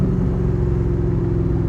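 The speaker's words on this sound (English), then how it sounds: "listen to that exhaust. Man, does it sound good." Steady low exhaust rumble from a 1965 Shelby Cobra Superformance, a deep continuous burble idling close by with no voices over it.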